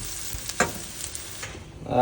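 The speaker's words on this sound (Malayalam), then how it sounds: "അങ്ങനെ നമ്മൾ കടുക് പൊട്ടിച്ചിട്ടിരിക്കുകയാണ്" Mustard seeds spluttering in hot oil for mango pulissery, scattered sharp pops and crackles over a soft sizzle, close and fairly quiet.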